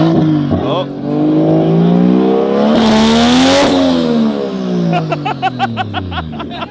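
A twin-turbo Ford Raptor R revs hard up toward 8,000 RPM, loud and close, its roar climbing and falling in long sweeps before a few sharp throttle blips at the end.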